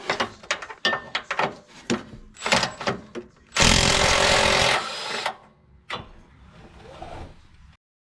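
Impact tool driving through extensions to loosen bolts while pulling a Subaru FB20 engine from an Impreza, with rattling clicks and clanks, then one sustained loud buzzing burst followed by quieter mechanical rattles.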